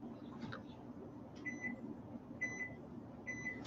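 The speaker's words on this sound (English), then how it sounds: "I always got to set an alarm to remind me of what I'm doing." A kitchen timer being set while ham and cheese sliders are made gives three short, faint clusters of electronic beeps, spaced about a second apart, over a steady low room hum.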